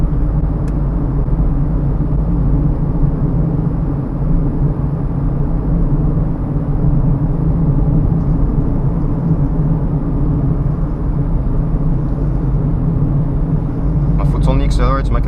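A Mazda CX-5 engine pulls hard under full throttle toward redline, a loud, steady low drone and rumble that holds for the whole stretch, with a brief rise near the end.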